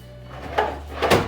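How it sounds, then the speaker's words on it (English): A deep, long soft-close storage drawer built into a tiny-home staircase slides shut, giving two soft, muffled thuds about half a second apart, close by and fairly loud, with no talking. "These are all big, long, deep drawers, soft close."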